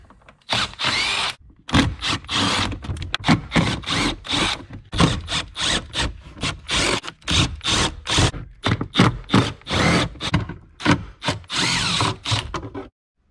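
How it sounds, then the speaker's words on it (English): A power drill or driver unscrews glove box screws in an Audi A4 interior, giving repeated short whirring bursts in a quick irregular rhythm, close and loud, with brief gaps between spins and no talking. "now we just start taking all the screws off"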